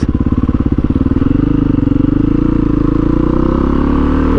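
A 2008 SMR 510 motorcycle engine running close by, a loud throbbing single-cylinder idle that rises into a steadier, fuller rev, with no talking.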